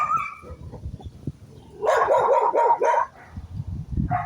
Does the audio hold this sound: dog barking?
yes